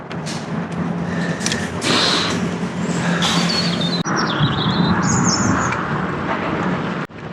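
Bright warbling birdsong phrases of a robin over steady traffic rumble, the song clear but somewhat distant above the engine noise.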